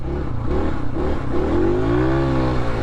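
Dirt bike engine revving hard in fifth gear while riding through bush, a loud close continuous drone with rising and falling harmonics as the revs climb toward the limit.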